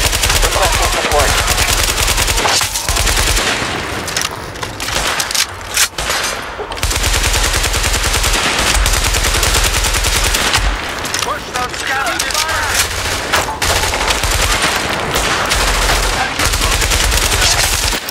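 Sustained automatic gunfire in the video game Tom Clancy's The Division, a street firefight on West 29th, rattles loudly and almost continuously, with short lulls and heavier blasts mixed in, under occasional voices.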